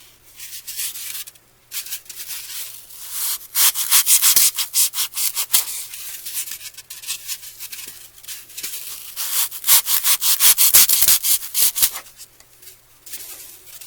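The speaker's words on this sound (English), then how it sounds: "You see how nice this knife cuts the foam." Knife slicing and trimming floral foam for a lemon centerpiece, heard as rapid raspy scraping strokes in bursts with brief pauses between them, close up and alone.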